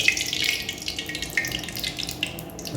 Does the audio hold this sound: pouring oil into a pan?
yes